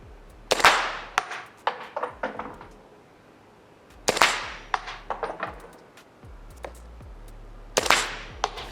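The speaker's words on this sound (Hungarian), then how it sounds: "felkerült a hangtompító, Subsonic 3 lövés" Three suppressed subsonic shots from a BTS-15 carbine in .300 Blackout, each a sharp, fairly muted crack with a short echoing tail, spaced several seconds apart outdoors, with lighter clicks and clanks of handling in between.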